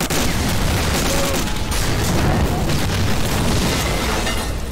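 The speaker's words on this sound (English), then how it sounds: "Thank you, explosions." Explosions and heavy gunfire in Medal of Honor: Allied Assault, a World War II shooter game, make a dense, constant roar of booms and bursts lasting several seconds with no pause.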